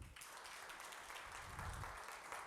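A congregation claps at a Telugu worship service, a soft, steady wash of many hands applauding together at a distance, fairly faint and continuous with no voices over it.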